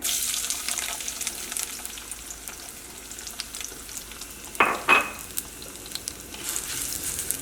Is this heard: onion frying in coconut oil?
yes